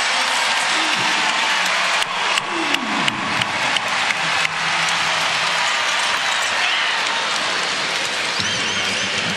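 A basketball crowd at Kansas, hosting Oakland in a November 2017 NCAA men's game, gives Chris Tia a sustained standing ovation. The dense applause and cheering hold steady throughout, with a few sharper claps and shouts poking through.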